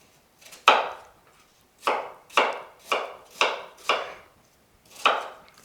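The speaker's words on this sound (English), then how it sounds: "once I've got them all peeled and cored, I'm going to give them a good chop." Peeled and cored fruit being chopped with a knife on a board, seven crisp separate cuts at an uneven pace, close and clear with no talk.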